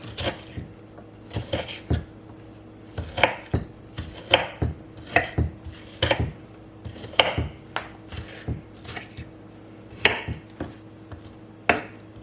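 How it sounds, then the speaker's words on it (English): A knife chops an onion into small pieces on a board, a string of crisp, close taps in uneven bursts with short pauses between runs. "Now I'm going to chop these up into small pieces"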